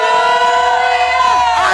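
Congregation at a praise and worship service raising a loud, sustained, high-pitched collective shout, steady and close, with voices wavering near the end.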